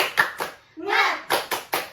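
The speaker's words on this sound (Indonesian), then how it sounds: "Yuk, kita tepuk semangat dulu yuk." Young children in an early-childhood classroom perform a 'tepuk semangat' clapping chant: a few sharp, close hand claps in a quick pattern, broken by a single chanted word from the group.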